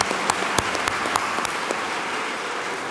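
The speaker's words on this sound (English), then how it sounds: "Let's applause for him." An awards-ceremony audience applauds an illustrator, sustained dense clapping with a few sharper claps standing out, no voices over it.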